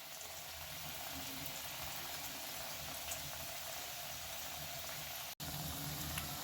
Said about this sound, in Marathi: मंद आचेवरच आपल्याला या वड्या तळायच्या आहे